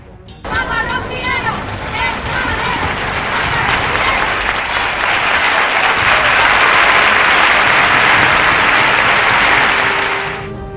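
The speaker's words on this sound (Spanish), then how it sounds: "Se hizo notar el compás de las palmas de los rocieros." A large crowd of Rocío pilgrims clapping in rhythm during John Paul II's visit to the Virgin of El Rocío, loud, dense and continuous for the whole stretch.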